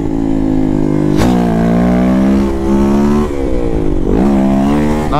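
A motorcycle fitted with a Dore exhaust run without its filter revs hard and loud, the engine note climbing and dipping through several throttle blips at close range.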